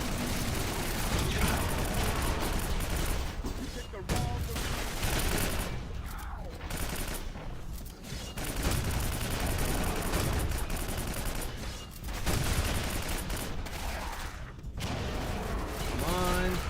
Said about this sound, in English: Oh, let's actually use a grenade launcher.